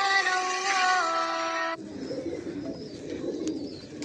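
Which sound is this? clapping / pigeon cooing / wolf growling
pigeon cooing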